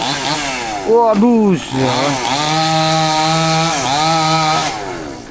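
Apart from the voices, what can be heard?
chainsaw felling trees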